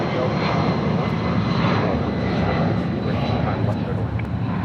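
Delta Airlines Boeing 757-200 jet at LAX, bound for JFK, giving a steady broadband engine roar that holds evenly throughout, moderately loud and continuous, with no break or obvious change in pitch.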